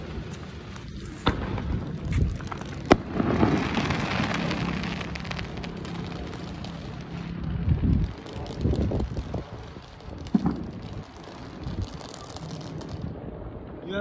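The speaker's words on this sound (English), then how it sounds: "Show them the fireworks around us." Repeated booms and crackling bursts of Fourth of July fireworks going off around, some sharp and close, others rumbling, with wind buffeting the microphone between blasts.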